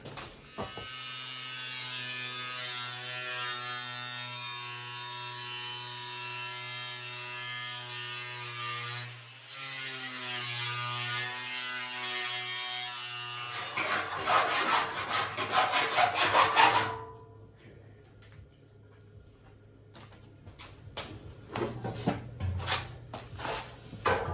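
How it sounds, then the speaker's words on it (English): Power cutting tool, likely an angle grinder or saw, trimming the end of a steel floor pan on a 1968 VW Standard Beetle; a steady loud whine for about fourteen seconds, then harsher rasping cuts and scattered clanks as it stops. "we're gonna trim the end of this plate, or floor pan"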